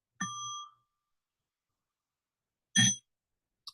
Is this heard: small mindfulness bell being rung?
yes